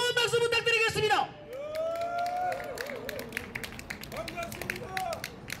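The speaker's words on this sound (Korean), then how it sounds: "여러분 뜨거운 박수 부탁드리겠습니다." A rally crowd claps in scattered, uneven bursts to welcome a speaker, with a loud voice just before and tonal sounds and murmuring mixed through the sparse applause.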